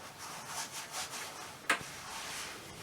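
A horse saddle's pommel being rubbed clean, giving a soft rhythmic back-and-forth scrubbing with one sharp knock partway through, quiet and close without talk.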